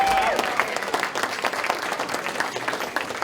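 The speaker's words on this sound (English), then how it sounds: "Give Tom a round of applause." A Christmas show audience applauds after a magic trick, a moderately loud, even patter of clapping that holds steady for a few seconds, with a faint voice briefly at the start.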